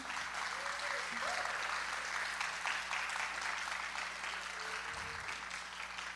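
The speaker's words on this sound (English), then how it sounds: "So big round of applause to everybody." Steady applause from a performance audience fills a darkened space, a dense even wash of clapping with a few faint voices underneath.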